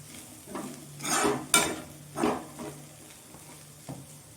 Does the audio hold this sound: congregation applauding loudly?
no